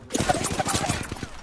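Rapid automatic gunfire in an Apex Legends ranked match, a dense burst of repeated shots running steadily through the moment, mixed with game sounds and some voice.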